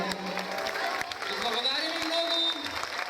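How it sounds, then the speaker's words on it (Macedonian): Audience applause at a kindergarten end-of-year show, a steady spread of clapping with crowd noise throughout, voices mixed in under it. "Благодарим многу, аплауз голем."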